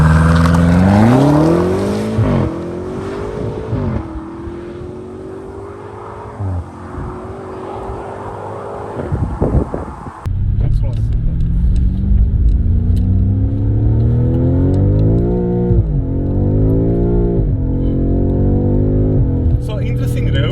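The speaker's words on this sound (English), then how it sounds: "the car spins second gear a little and then clears up third gear" A BMW M car accelerates hard on a road, its engine climbing through rising revs with quick gear changes, loud and close from inside the cabin, while a person speaks over it.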